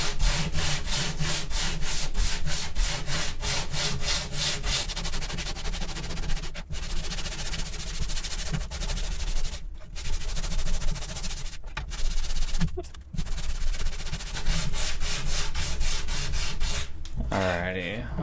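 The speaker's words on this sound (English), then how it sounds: "So I'm just going to wrap my sandpaper around this block. And start rubbing. I'm going with the grain." Wood is sanded by hand with sandpaper wrapped around a block, rubbing along the grain in fast, rhythmic back-and-forth strokes that rasp loudly and close up, with a few brief pauses between bursts.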